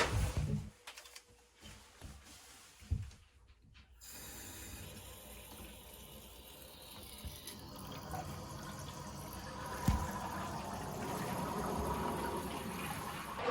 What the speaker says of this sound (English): the water's flowing through the lines into your water heater